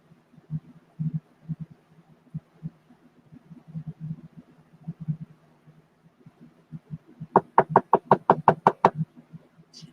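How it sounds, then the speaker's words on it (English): A burst of about eight sharp, evenly spaced knocks on a door or hard surface comes in the last two seconds, loud and close, after a stretch of faint low thumps and rustling. "I hear you knocking, but you can't come in."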